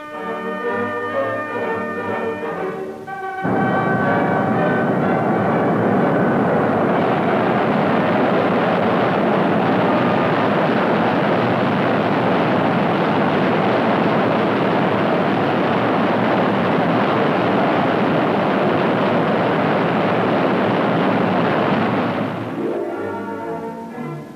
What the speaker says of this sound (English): Preparation for flight included exhaustive testing of the aircraft systems and ground running of the engines.